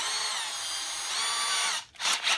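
A power drill fitted with a small bit whines steadily as it bores a pilot hole into a plastic full-face mask, then briefly drops off and spins back up, loud and close.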